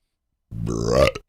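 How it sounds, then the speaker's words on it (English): A loud, close burp from someone who has just drunk warm beer in a hot little room: one throaty, rising belch of under a second, heard alone with no talking. "that is warm beer burps for sure"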